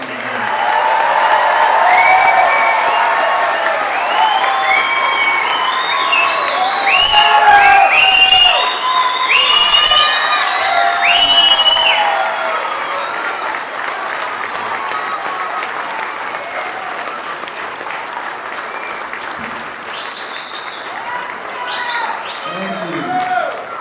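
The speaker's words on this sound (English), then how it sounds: "Let's give them a round of applause." Large commencement audience applauding and cheering for the University of Hawaii West Oahu Fall 2010 graduating class, a loud sustained roar of clapping with shouts and whoops, tapering off toward the end.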